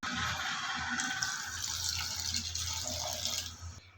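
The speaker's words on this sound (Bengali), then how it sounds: "আমি এই পানিগুলো দিয়েছি" Water poured from a vessel into a pan of fish curry with aubergine and spinach, a steady splashing, trickling flow lasting several seconds, close by, with no one speaking.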